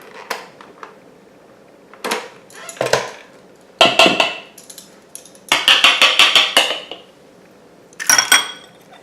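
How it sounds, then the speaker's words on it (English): A wooden spoon scrapes and knocks against a mixing bowl while chocolate chunks are stirred into an oatmeal bar mixture, in irregular bursts of clattering strokes with short pauses between. "I'm going to go ahead and stir our chocolate chunks in at the same time"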